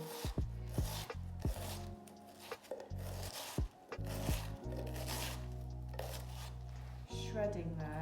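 A sharp kitchen knife slices repeatedly through half a cabbage, crisp rhythmic crunching and rasping cuts close by, with someone speaking over the shredding at intervals.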